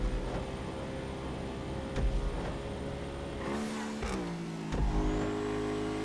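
An MF1 custom car in the FiveM racing video game revs and accelerates, its engine tone climbing and then dropping sharply through gear shifts, loud and close against game background noise.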